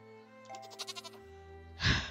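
A goat in a farming video game gives a short, stuttering bleat of several quick pulses, followed by a louder, breathier burst near the end, close and clear against quiet background tones.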